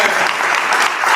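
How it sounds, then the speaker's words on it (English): A conference audience breaks into applause, a dense wash of many hands clapping at once, loud and continuous through the short moment. "Give yourself a round of applause"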